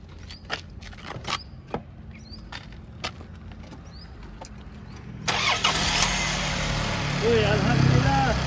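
A car engine in an automotive training workshop cranks and catches after a few short clicks and taps, then settles into a steady, loud idle with a high whine above it.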